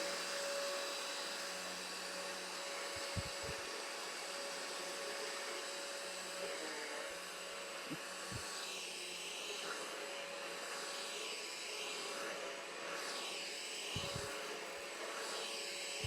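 A Henry Quick Pro vacuum cleaner runs with a steady whir, and faint low thumps and rattles come through as it sucks up bits of debris. Nobody speaks.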